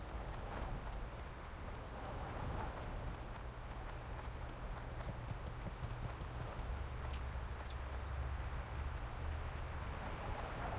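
Steady, faint hoofbeats clop along continuously, like a horse trotting, under a low background rumble, in World of Warcraft Classic.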